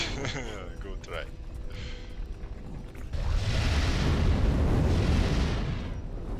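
Fire spell explosions in Overlord: Raising Hell roar as a sustained, dense rumbling blast that swells after a few seconds and stays loud, with a voice talking over the earlier part.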